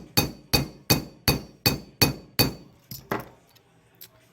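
Hammer strikes on a copper and aluminum rivet set into a pendant, seven sharp evenly spaced metallic blows close up, followed by a few lighter taps and small clinks as the work slows.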